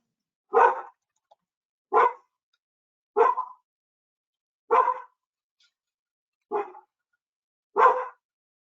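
A dog barks six times, single loud barks spaced about a second apart against an otherwise silent background, close to the microphone.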